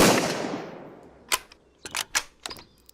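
Gunfire in the survival shooter Road to Vostok: one loud shot with a long decaying tail, followed by several sharp, sparse shots and clicks, close and with no talking.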